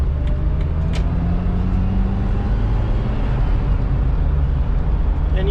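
A 2004 Jeep Wrangler TJ SE 4x4 climbs a highway on-ramp, with steady road rumble and wind noise roaring continuously and evenly throughout, and no talking.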